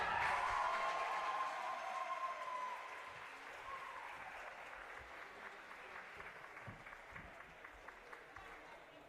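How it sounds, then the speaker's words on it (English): Applause in an indoor pool hall at a county swimming championship, crowd clapping that starts fairly strong under an announcer's fading voice and then settles into a softer, steady patter of scattered claps. "please give huge applause for Matthew Money"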